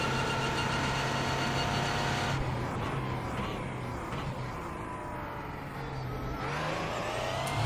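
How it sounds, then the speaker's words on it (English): Audi R18 prototype race car engine in the iRacing sim at Sebring, a loud steady mechanical roar with a gear change partway through, then climbing again, with no talking. "The sound of that R18 has christened it the nickname the Tractor."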